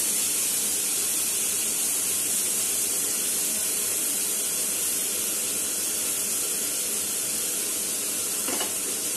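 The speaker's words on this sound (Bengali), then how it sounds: "এবার পেঁয়াজটাকে কিছুটা ভেজে নিয়ে এর মধ্যে দিয়ে দেব" Large chopped onions frying in a pan while a paratha filling is made: a steady, loud, close sizzle and hiss throughout, with no talk.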